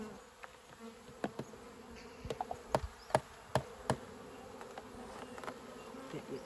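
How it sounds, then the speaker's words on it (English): Honeybees from a Kenyan top-bar hive buzz close by in a steady drone during an inspection, with scattered sharp taps and clicks throughout. "Just let these field bees fly away."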